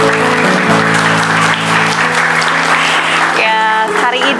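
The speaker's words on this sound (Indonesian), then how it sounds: "Boleh tepuk tangannya?" Studio audience on a family talk show applauds steadily for several seconds, a dense even clatter of clapping with a held musical tone underneath that shifts near the end.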